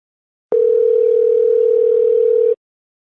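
A telephone dial tone sounds after a call is hung up: one steady, loud, unbroken tone that starts abruptly, holds for about two seconds and cuts off, with silence on either side.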